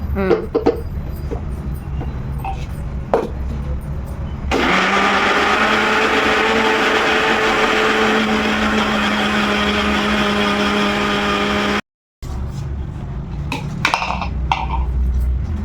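A mixer grinder whirs loudly and steadily for several seconds blending fruit pieces and water into juice, cutting off abruptly, with quieter clattering and handling noises before and after.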